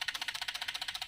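Rapid, evenly spaced mechanical ticking from a fuel injector, a dozen or so quick clicks in about a second, close and fairly quiet.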